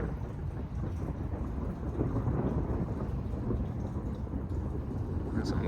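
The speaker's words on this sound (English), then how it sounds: "That's some weird thunder." Thunder during a lightning storm in Houston, Texas: a deep, continuous rolling rumble with steady rain hiss underneath, fairly loud throughout, and someone talking over it.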